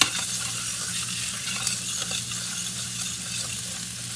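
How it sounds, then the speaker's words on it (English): Onions and garlic sizzle loudly and steadily in a pan while being stirred, a constant close frying hiss with faint scraping from the utensil and no talking. "onions, oh yeah, they're sizzling, onions and garlic into the pan"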